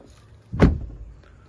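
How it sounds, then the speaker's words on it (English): A modified Mahindra Thar's door shuts with a single solid, close thud, a short sharp hit that fades quickly into quiet. "The door closes with a thud"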